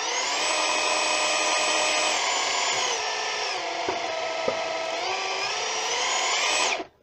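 A DeWalt FlexVolt DCH733X2 rotary hammer drill runs steadily close by with a high electric motor whine whose pitch dips midway and then rises again before it cuts off abruptly at the end.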